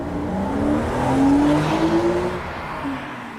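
A Porsche sports car runs on a race track, its engine note rising and holding as it accelerates past at moderate distance, steady for a few seconds before easing off.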